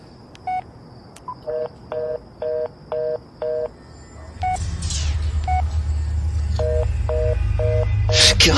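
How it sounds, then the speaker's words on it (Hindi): Phone keypad dialing to call the police: a quick series of short, evenly spaced electronic tones, then a pause and a few more tones over a rising, steady background rumble with some noise at the end. "मैंने झट से अपना फोन निकाला और पुलिस को लगाया"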